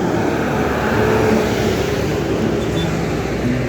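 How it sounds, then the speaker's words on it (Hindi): Steady road traffic on a busy street, with cars passing continuously in a dense, loud roar of engines and tyres and no clear gaps. "बाकी ये देखो ट्रैफिक का हाल।"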